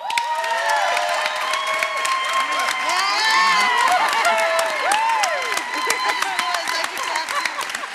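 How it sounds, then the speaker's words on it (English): Debate audience votes by noise, erupting into loud sustained applause with whooping, cheering and shouted voices layered throughout, a dense crowd roar that stays at full level from start to finish. "we'll vote by applause and whooping"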